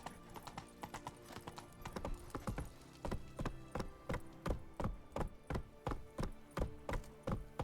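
Horse hooves clip-clop on a hard surface in the video game The Witcher 3: Wild Hunt, a close, steady rhythmic trot of sharp knocks throughout, with no talking.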